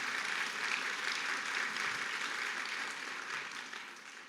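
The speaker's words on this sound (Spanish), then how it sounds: "Fuerte aplauso al Señor, por favor." A church congregation claps together in steady, dense applause during a Spanish-language service, an even wash of hands that holds for a few seconds before tapering slightly.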